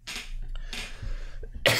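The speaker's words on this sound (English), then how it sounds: "Coughing, no corona." Three close, loud coughs from a man with a cold, spaced about half a second apart, the last one sharpest, with no talking in between.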